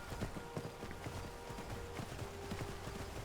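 Horse hooves clip-clopping in the Ultimate Skyrim video game, a soft steady rhythm of hoof beats under a low constant rumble of ambient wind, faint and fairly distant.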